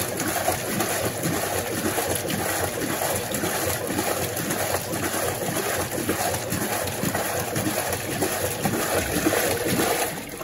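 A Consul Facilite 10 kg washing machine churns water on its normal wash cycle, giving a steady, dense sloshing and swirling noise that carries on unbroken at an even level with no talk.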